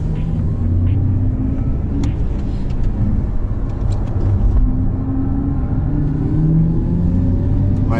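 Audi R8 pulling hard on a race track, heard from inside the cabin as a deep, steady engine rumble that climbs in pitch through the gears over eight seconds.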